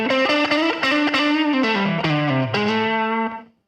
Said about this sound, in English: I have no reverb on it, but check out the difference with the ambience.